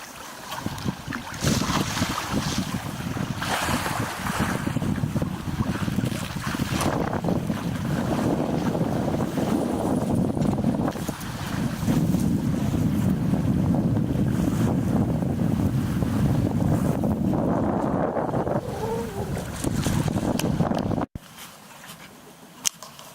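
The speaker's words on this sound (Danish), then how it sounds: "Ingeborg for fuld sejl." Sailboat moving under full sail with an autopilot steering, steady loud wind buffeting the microphone and water rushing along the hull for about twenty seconds, then an abrupt cut to near silence.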